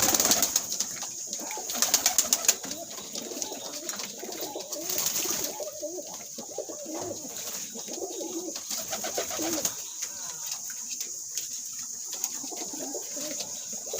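Caged breeding pigeons coo steadily and nearby while bathing, with soft rustling and splashing flutters and occasional wing flaps through the scene.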